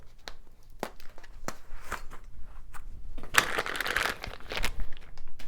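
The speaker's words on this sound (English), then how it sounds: "So let's go ahead and get the rest of the packaging material off" Packaging material crinkles and crunches as it is pulled off a Monza 24-inch BMX cruiser with Skyway mag wheels, with scattered sharp crackles and a denser burst of tearing midway, close and moderately loud.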